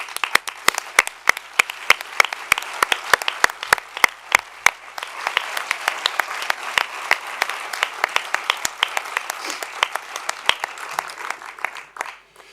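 At an anniversary event, a few sharp, evenly spaced claps lead into broad audience applause. The applause builds into a dense, lively round with individual claps ringing out before it dies away.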